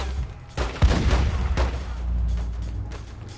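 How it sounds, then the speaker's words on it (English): Gunfire and explosive bursts in The Godfather 2 video game, a dense fusillade of shots layered over low rumbling booms, loud and continuous with sharp peaks, no speech. "Who the fuck is shooting at us?"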